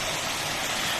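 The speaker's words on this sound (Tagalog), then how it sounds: "Ito yung ilog boss ayan" A river flows steadily, giving an even, broadband rush of moving water that stays constant and unbroken throughout.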